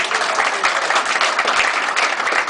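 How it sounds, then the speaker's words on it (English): An audience gives a round of applause for three men, a dense, steady clapping lasting the whole moment with no speech over it. "Give those guys a round of applause."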